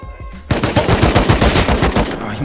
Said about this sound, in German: Ich musste schießen.